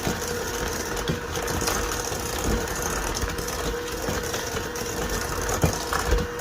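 An electric mixer whirs steadily while mixing Lofthouse cookie dough, a continuous close motor hum with small bumps and clatters from the bowl, no talking.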